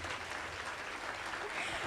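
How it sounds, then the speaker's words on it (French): A brief burst of cheering and applause from an audience at a children's art event, a dense, noisy wash of clapping and voices at moderate level. "Alors des acclamations et encore des acclamations"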